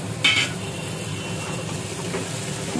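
Ginger and garlic fry in a pan with a steady soft sizzle and hiss, a sharp utensil scrape near the start and occasional stirring clinks, no voices.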